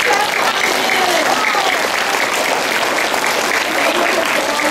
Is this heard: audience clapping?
yes